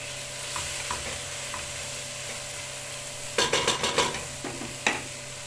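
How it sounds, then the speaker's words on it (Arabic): Meat browning in a pan sizzles quietly and steadily, then a utensil scrapes and stirs in a burst of close clinks and scuffs, with one more knock near the end. "هنا اللحمه بس تاخد لون، تبقى لونها بيج او بني"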